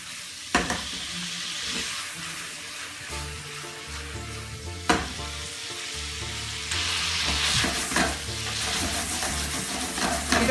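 Meatballs browning in a hot frying pan for Italian polpette, a steady crackling sizzle with occasional sharper pops and spatters, close and fairly loud, no talking.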